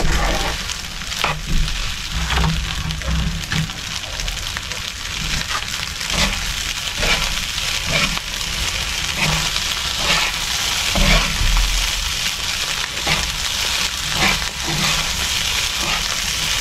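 Food frying in a pan while being stirred and mixed, a loud steady sizzle broken by repeated scraping strokes, with no talk.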